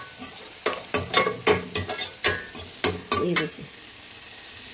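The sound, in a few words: onions frying until golden for biryani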